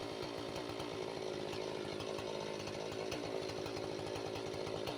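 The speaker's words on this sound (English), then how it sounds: "Chainsaws slice through solid trunks like butter" A chainsaw runs steadily at close range, its engine snarl holding constant as it cuts felled tree trunks into log sections during timber harvesting in a forest.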